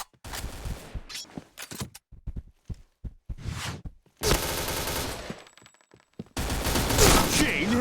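Bursts of rapid video game gunfire landing headshots, sharp loud volleys separated by short pauses, with two long sustained barrages near the end.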